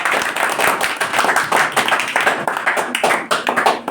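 An audience at a student award ceremony claps steadily and loudly, a dense wash of many hands continuing throughout without pause.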